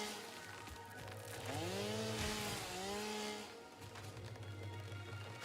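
Chainsaw in the factory-building game Satisfactory, a steady buzzing motor running throughout with a pitch that swoops and bends in the middle, heard alone.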